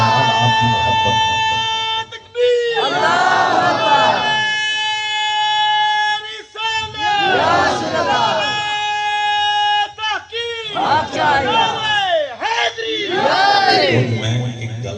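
A large crowd at a majlis gathering for Imam Hussain chants religious slogans in loud rhythmic bursts of massed voices, rising and falling in waves with brief pauses between chants, over a sustained droning background.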